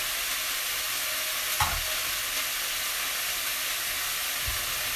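Chopped celery stirred into a pot of Tuscan bean and cabbage soup makes a soft continuous sizzling hiss, with a couple of brief low knocks from the spoon.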